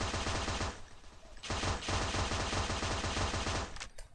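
Rapid automatic gunfire from a gun in the mobile shooter game MaskGun, two long dense bursts broken by a short gap, loud and close, with no talk over it.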